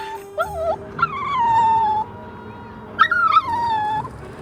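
A lost puppy in the bushes gives several high, wavering whimpers and whines in short repeated bursts over a faint background, with no talking.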